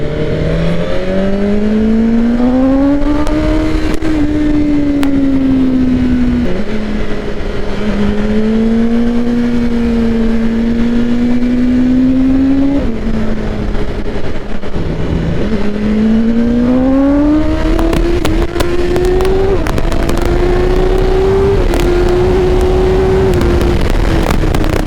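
A BMW superbike engine (M1000R or S1000RR) revving hard with a loud airbox intake roar, its pitch repeatedly climbing and dropping through gear changes, continuous and close throughout.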